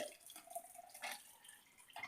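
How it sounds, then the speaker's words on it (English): Foamy juice pours into a glass in a thin, steady liquid stream for about two seconds, with a few brighter splashy bursts. The sound is close and fairly quiet, and no one talks over it. "I'm going to pour that in."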